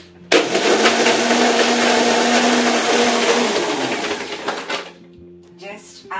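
A Herbalife protein shake is mixed with a loud, steady whirring and rattling that starts abruptly, runs for about four and a half seconds, then winds down and stops, close by, with brief talk afterward.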